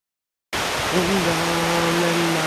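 Steady, loud broadband rush of flowing water fills the scene after a sudden start, with a faint tonal voice humming beneath.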